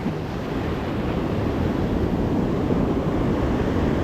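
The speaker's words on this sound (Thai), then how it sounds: "คลื่นไปแล้วคลื่นแรงมาก" Strong ocean surf pounds the Australian shoreline where people fish for squid, a steady, loud roaring wash of breaking waves mixed with wind buffeting the microphone, continuous and without pauses.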